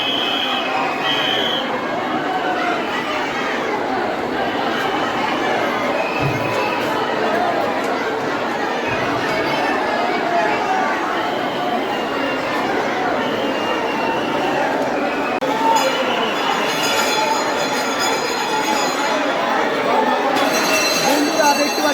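A dense crowd of pilgrims queuing to pour water on the Shiva linga at Tarakeswar temple on a Shravan Monday murmurs and chatters continuously, many voices blending into a steady hubbub with occasional clinks, close and loud throughout.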